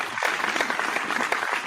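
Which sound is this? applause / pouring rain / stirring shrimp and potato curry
applause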